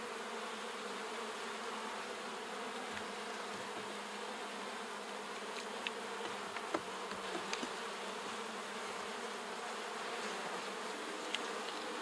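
Honey bees buzz steadily around an open hive heavy with brood, nectar and pollen, a dense continuous drone with occasional louder passes of individual bees close by.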